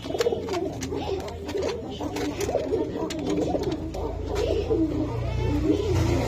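A pigeon sitting on eggs coos repeatedly in a rhythmic series of soft, throaty calls, close by, with faint background voices and market noise.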